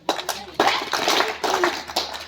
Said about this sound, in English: you have to clap for 3 times